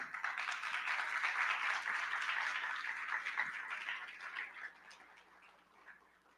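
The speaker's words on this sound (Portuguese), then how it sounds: "Uma salva de palmas para Caio Gomes" An audience at an artificial intelligence talk in Brazil applauds with a soft, distant patter of clapping that stays steady before thinning out and fading toward the end.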